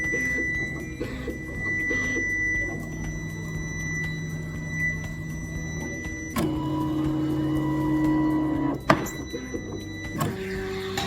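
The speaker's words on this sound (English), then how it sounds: "We already selected the design we want to cut, so we just select this and press cut." A Nexera ONE all-in-one machine cuts screen protector film, giving a steady mechanical whir with shifting motor tones, a louder stretch partway through, then a sharp click and brief movement sounds near the end, close and fairly loud.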